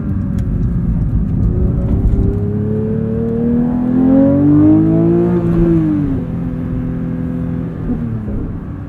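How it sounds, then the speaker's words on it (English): A manual 2023 Porsche 911 GT3 in track mode with auto rev matching revs up, its engine note climbing steadily to a loud peak, then dropping back as it eases off, heard close from inside the car. "Play around in track mode with auto rev matching here a bit."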